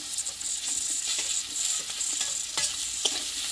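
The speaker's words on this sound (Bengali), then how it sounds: "দেখো লঙ্কাটা পেঁয়াজের সঙ্গে একটু ভেজে নিয়েছি। এইবার দেবো কেটে রাখা বেগুন।" Cut brinjal frying with chilli and onion in a pan gives a steady, close sizzle, broken by short scraping stirs, with no voices.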